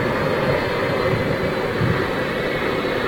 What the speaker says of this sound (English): Oh, I've got another 757 with Jet 2 behind this one, which is why you can hear those RB211s.